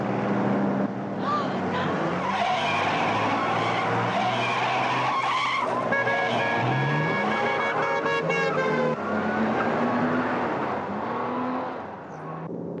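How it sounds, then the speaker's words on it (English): A car speeds through a chase with repeated tire skids and squeals over a roaring engine, loud and close. Other engine noise and brief voices mix in before the sound fades at the end. "Must we go so fast, Rudy? That car can't possibly catch up with us."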